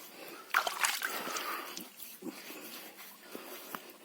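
Water scooped by hand from a river at a watering spot on the Krishna riverbank, making a few close splashes and sloshes that fade into quieter dribbles, with no talking.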